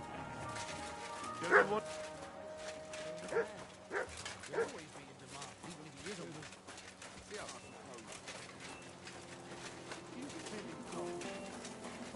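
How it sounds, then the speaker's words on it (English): Dog barking in the medieval video game Kingdom Come: Deliverance 2, a few sharp barks early on, then more scattered yelps over game music and ambient sound. "You better call back that dog"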